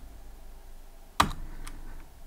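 A single sharp keystroke on a computer keyboard while typing Python code, followed by a couple of fainter taps, close and clear over a quiet room hum.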